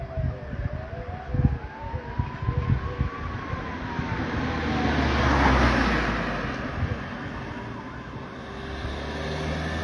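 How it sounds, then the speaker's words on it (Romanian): Distant fire engine and ambulance sirens wail up and down over heavy, rumbling background noise and wind during a warehouse fire, with no one speaking. "Se aud pompierii, se aud salvare."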